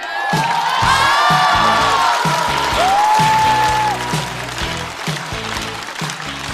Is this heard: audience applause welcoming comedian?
yes